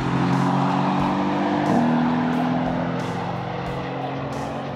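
Mercedes-AMG GT S on the Laguna Seca track, a steady loud exhaust roar from the dual tips as the car drives hard, holding a sustained engine tone with a slight rise in pitch.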